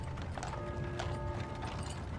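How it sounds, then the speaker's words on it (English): A horse-drawn wagon pulls up on Wall Street in 1920s New York, hooves clip-clopping steadily under a dense rattle of wheels and busy street noise. "a horse-drawn wagon pulls up outside the offices of J.P. Morgan Bank at 23 Wall Street"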